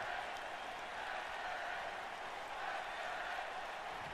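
Crowd applause from the WWE 2K19 wrestling video game makes a faint, even wash of clapping and cheering that runs steadily throughout with no break.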